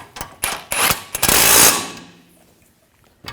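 Ratchet wrench snugging a nut on the rear control arm of a 2011-2018 Volkswagen Jetta: a few quick clicking bursts, then a longer, louder ratcheting run that fades out, ending with a single faint click.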